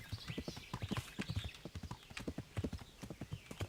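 A horse's hooves clip-clop in steady, rapid rhythm in the medieval video game Kingdom Come: Deliverance, the close, even beats continuing throughout at moderate volume.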